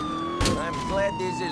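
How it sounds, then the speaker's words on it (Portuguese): A police car siren wails in the video game GTA IV, a steady electronic tone running through the whole short stretch with brief bursts of noise over it. "Também podias ter ligado as sirenes."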